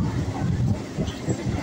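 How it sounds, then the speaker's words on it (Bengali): A goods train bound for Bardhaman rolls past close by, a steady low rumble of wagons with faint rhythmic wheel clatter, heard alone without talk. "ট্রেন একটা এসে গেছে, এটা বর্ধমান যাবে।"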